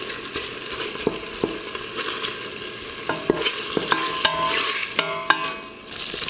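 Pork bacon fries steadily in a pan with a dense, loud sizzle while being stirred, and a utensil scrapes and taps against the pan every so often.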